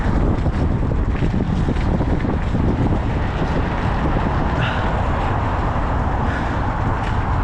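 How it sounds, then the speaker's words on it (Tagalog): Strong wind roars continuously in freezing cold, about minus one degree, against someone hauling a load on a snow-free outdoor path in Canada, a loud, unbroken buffeting rush with no talk. "Lakas ng hangin."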